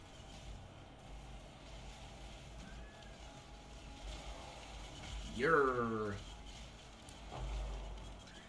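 A house cat meows loudly and insistently for about a second, a rising then falling cry close to the microphone, with a shorter faint call after, over steady low background hum.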